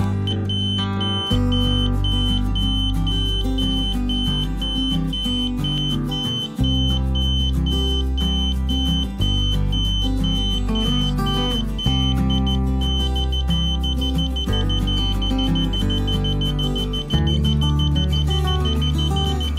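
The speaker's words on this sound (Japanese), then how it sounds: "一酸化炭素チェッカーは設定した濃度で警報してくれることが確認できました" A carbon monoxide checker's alarm, set off by rising concentration from burning candles under plastic sheeting, beeps in a rapid steady pattern throughout, partly buried under loud background music.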